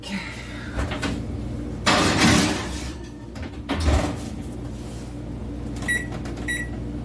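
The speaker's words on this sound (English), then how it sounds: "So let's get that in the oven to bake." A baking dish goes into a gas oven: a door opens with a clunk, metal scrapes and slides as the rack moves, and another thump follows as the door shuts, with light clicks afterward in a quiet kitchen.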